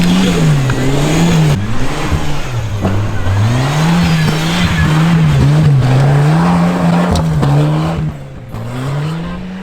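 An old winter beater car revs hard and accelerates on a snowy road, its engine droning loudly with rising and falling pitch for several seconds before easing off near the end.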